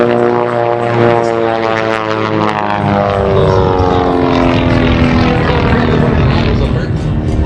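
A Pitts propeller biplane flying aerobatics at the 2018 Manassas Air Show drones loudly and continuously, its engine pitch rising and falling as it rolls overhead trailing white smoke, with a voice talking beneath the roar.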